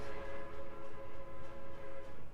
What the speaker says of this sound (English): coal trains just coming back in there